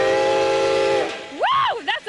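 Steam locomotive whistle blown at the historic Kempton railroad station in Pennsylvania: a long steady chord-like blast, then short rising and falling whoops, loud and close.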